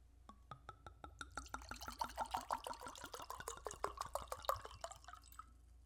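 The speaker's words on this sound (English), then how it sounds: "ASMR pour." Liquid poured close-up for an ASMR moment, heard as a quick run of glugging, bubbling pulses that speed up into a busy gurgling stream before trailing off, quiet and alone.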